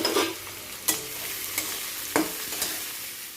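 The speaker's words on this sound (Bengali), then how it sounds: "আগে পেঁয়াজ দিতে হইব। পেঁয়াজটা ভাজা আর পরে মাংস দেব।" Onions fry in hot oil in a kadai with a steady close sizzle. A few sharp scrapes and clinks of stirring break through, and no one speaks.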